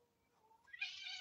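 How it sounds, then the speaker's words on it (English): Cats fighting outside a window, a low growling moan swelling into a sudden loud, harsh yowl at a distance, with no voices. "Kitty cat's fighting outside my window."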